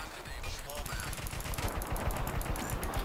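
Gunfire in the shooter Crysis 3, a steady rapid stream of automatic shots rattling loudly and close for the whole few seconds, with no pauses between rounds.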